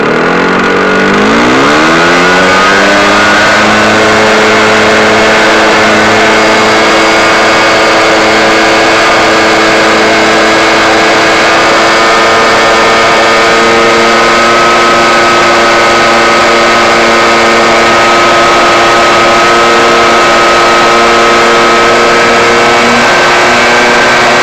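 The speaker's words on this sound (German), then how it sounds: "Und jetzt gebe ich Gas." A Piaggio Ape 50 three-wheeler's small engine revs up loud and close as the throttle opens, its pitch climbing quickly and then holding at a high steady drone with a buzzing tone for a long stretch.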